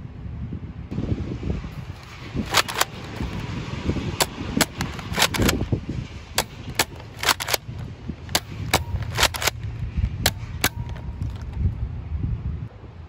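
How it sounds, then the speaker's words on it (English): A Nerf Rough Cut blaster fires foam darts outdoors, with many sharp, snappy pops in uneven bursts, some doubled, over steady wind noise. "now firing both darts at once"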